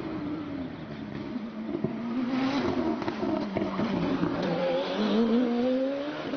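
A race car on a British hillclimb course accelerates hard, its engine note climbing and dropping through a couple of gear changes, heard from a moderate distance against a roadside background.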